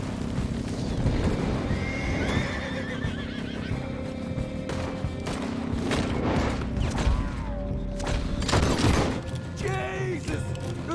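A horse in Red Dead Redemption 2 whinnies several times, with clip-clopping hooves, creaking gear and scattered gunfire in a busy game scene while voices talk over it.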